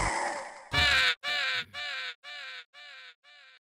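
A crow caws six or seven times in a steady series, each harsh call a little fainter than the last, close and alone.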